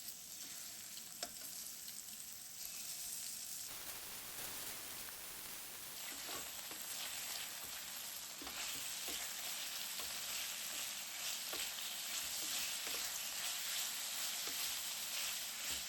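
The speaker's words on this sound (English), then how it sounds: "we're gonna add some olive oil, make sure that gets everywhere, and then we're gonna lay in all of our chicken" Chicken pieces frying in olive oil in a pan, a steady quiet sizzle with a constant high hiss and soft crackles, briefly louder and broader as food is stirred or moved.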